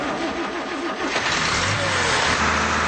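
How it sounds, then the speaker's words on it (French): A Pantone water-injected engine running and sputtering, a rough continuous mid-pitched motor noise that builds slightly in intensity, loud and steady with no talking. "voilà la machine qui pétarade à tout va"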